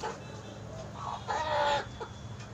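A chicken clucks in a few short bursts, the loudest near the middle, fairly faint over a low background hum, with no clear speech.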